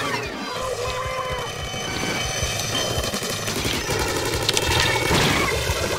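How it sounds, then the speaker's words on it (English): Tandem missiles special fired in a Splatoon match, a dense clattering barrage of rapid launches and booms under game music and sound effects, steady and loud throughout with a swell near the end. "Boom, tandem missiles."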